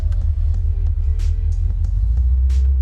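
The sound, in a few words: AMC Javelin muscle car put into gear and driving off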